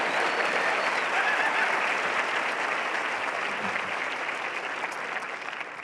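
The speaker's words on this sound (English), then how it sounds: "You can applaud that. That's worthy of applause." A large audience applauds steadily for about six seconds, a dense, even wash of clapping that fills the room at constant loudness before easing slightly near the end.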